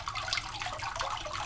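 Water drains through wet paper pulp and a mold screen in homemade papermaking, a soft, continuous trickling and splashing heard up close with no talk.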